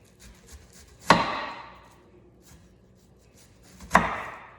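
Two sharp knife chops on onion against a cutting board, each a crisp impact with a brief tail, spaced about three seconds apart during meal prep for beef taco bowls.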